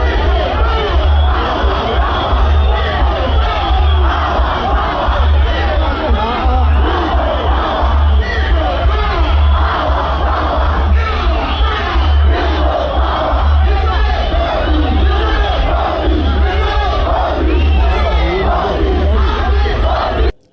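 A massive crowd of political supporters at a rain-soaked campaign procession cheers and shouts continuously, a dense roar of voices and whoops that stays loud and steady throughout.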